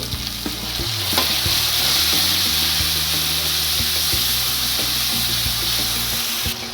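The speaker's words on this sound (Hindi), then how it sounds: "अब हल्का सा पानी डाल के इसको भूनूंगी" Steady sizzling of paste frying in a hot pan, with occasional scraping and stirring of a spoon against the metal throughout.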